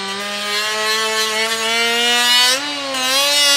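A grinder scuffs the outer perimeter of a car audio kick panel ring, giving a loud, steady, high whine with a brief dip in pitch under load before it steadies again.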